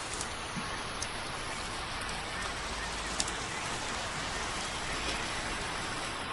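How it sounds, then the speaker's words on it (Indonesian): Steady rain pours down in a dense, unbroken hiss, loud and close, with occasional louder drops ticking out of the wash and no voices. "hujan turun"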